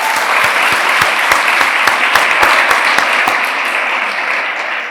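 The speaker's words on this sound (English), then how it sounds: "I would like to be able to give them a round of applause for all of their efforts." Graduation ceremony audience at Atlantis The Palm in Dubai applauds steadily, a dense wash of many hands clapping with sharp individual claps poking through, sustained and fairly loud before tapering slightly at the end.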